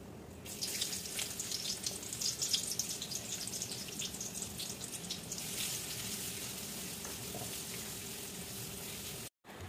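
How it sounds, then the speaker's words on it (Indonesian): Kue tongkol frying in oil over a very low flame in a home kitchen, a steady soft crackling sizzle with scattered pops running throughout, fairly faint and with no talk. "kalau goreng kue tongkol ini aku selalu takut ya karena galak banget meletuk-meletuk gitu"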